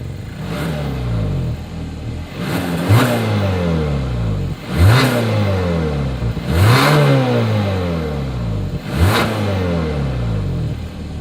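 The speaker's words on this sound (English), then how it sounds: "here is that exhaust clip" A 2021 Hyundai Santa Fe with satin chrome exhaust tips being revved while parked, five or six sharp throttle blips rising and falling in a steady rhythm, close and loud.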